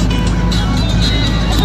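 A hired car driving along an Indian highway, with a steady, close engine and road rumble heard from inside the cabin.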